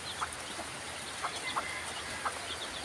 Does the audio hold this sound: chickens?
yes